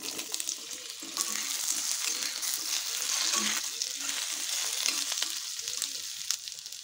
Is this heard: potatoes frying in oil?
yes